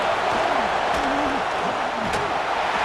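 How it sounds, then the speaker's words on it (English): Steady, loud stadium crowd roar from a college football video game, Notre Dame versus USC, a continuous wash of noise with a voice talking faintly over it. "The crowd really making some noise now, trying to help out this defense to get this stop near the goal line."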